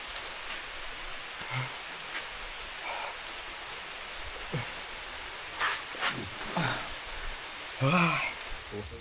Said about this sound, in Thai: ฝน ตกแทบทุกมื้อทุกวันเลย